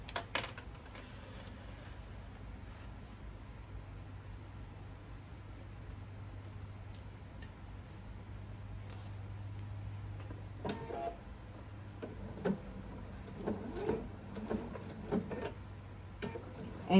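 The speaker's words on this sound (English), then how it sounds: "Now I'm going to start sewing right here at this raw edge and go all the way up to the end." A sewing machine stitches fabric along a raw edge for a thread catcher, a low, steady mechanical hum running for several seconds, followed by stops and starts with clicks and short bursts of stitching, with a voice talking over it.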